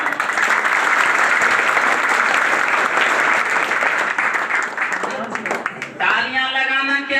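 Loud, sustained audience applause fills a school felicitation event for a matriculation student in Maniyar Mahamadipur, then thins near the end as a voice starts speaking.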